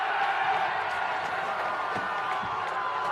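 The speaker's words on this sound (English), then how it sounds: "And you can hear the crowd in the background." Crowd noise at a country football senior grand final, a steady broad roar of spectators with scattered cheers and whoops carrying through the ground for the whole stretch.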